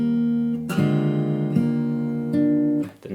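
Fingerstyle guitar plays a melody with a counter melody, sustained plucked notes changing every second or so, close and clear with no talking.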